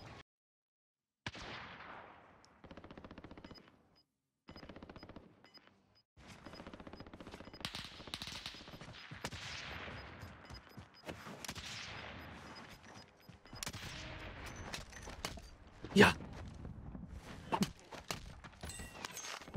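Gunfire in the Warzone video game, with bursts of shots and rapid automatic fire coming in clusters, growing denser and louder toward the end, with brief near-silent gaps early on and footstep-like clatter between volleys.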